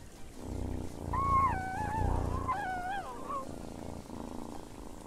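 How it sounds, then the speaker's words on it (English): A T-rex in Path of Titans gives a low rumbling purr under warbling, whale-like tonal calls that rise and fall, up close, with no talking. "Why are we purring like a dog?"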